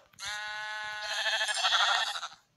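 Minecraft sheep give one drawn-out bleat, close and clear with no other sound, starting steady and breaking into a wavering tremble before it stops.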